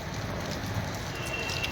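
Rain falling in Srinagar, a steady broad hiss of drops on surfaces that holds even throughout, with no clear voices.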